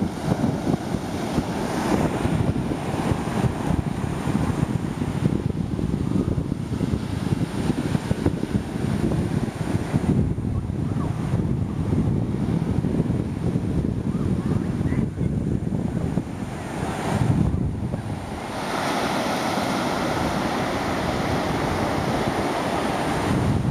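Surf breaking at a beach while wind buffets the microphone, a loud, continuous roar of waves and gusts with no voices over it.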